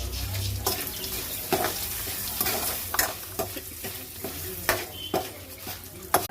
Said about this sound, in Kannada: ಆ ಮಸಾಲ ಹಾಕಿ ಫ್ರೈ ಮಾಡಬೇಕು.